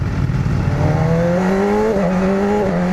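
A BMW S1000RR motorcycle roars close as it accelerates, its engine pitch climbing in steps with a quick-shifter gear change partway through.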